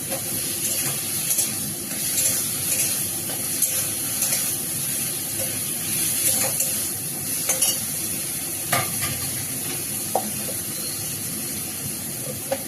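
Taro stir-fried with spices in a pan, a steady hiss of sizzling oil broken by scattered light clicks and scrapes as the pieces are stirred, close and continuous with no talking.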